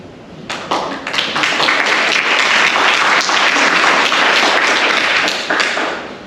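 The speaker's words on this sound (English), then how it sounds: "if we could respectfully hold all applause until the end so that speakers can be heard" Applause from an audience at a public airport advisory panel meeting in Venice, a dense, loud burst of many hands clapping that swells quickly, holds steady for several seconds, then tapers off.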